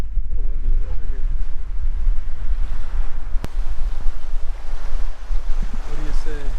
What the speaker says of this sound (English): So this is Sunset Beach. A little windy over here.